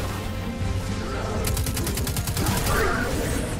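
Gunfire from the Destiny 2 video game, a rapid burst of repeated shots that starts partway through and runs steadily over a constant game soundtrack and ambience.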